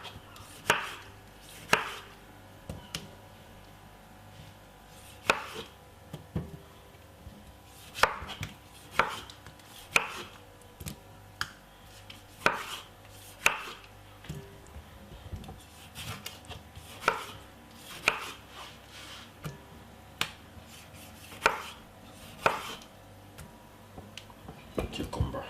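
A knife chops a tomato on a board in steady, sharp, close strikes spaced about a second apart, with brief pauses between runs and no talking.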